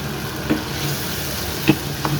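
Prawns sizzling and frying in spice paste in a pan with kochu, a steady close hiss broken by a few soft scraping stirs.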